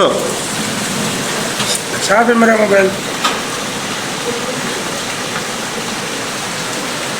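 Heavy rain in a storm in Islamabad hisses steadily while water pours over a boundary wall, with someone speaking briefly partway through.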